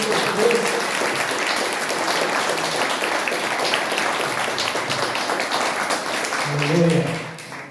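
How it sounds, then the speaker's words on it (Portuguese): A church congregation at a thanksgiving service claps hard for the Lord, a continuous wash of applause mixed with cheering voices that fades out at the very end. "você pode dar uma salva de palmas bem forte para o Senhor"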